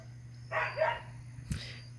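A dog barks outdoors in a rural spot with orange and bacuri trees, a couple of short barks at a distance over a steady hum, with a brief thump shortly after.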